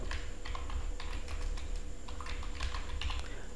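Rapid keystrokes on a computer keyboard as a channel name is typed, a steady run of close, crisp clicks over a low background hum, with no voices.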